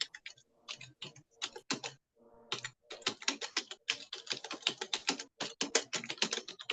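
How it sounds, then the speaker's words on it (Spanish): Rapid typing on an open computer's keyboard, a dense run of close, crisp keystroke clicks with a brief pause near the start, heard alone with no voices. "Ahí hay un computador abierto sonando un teclado."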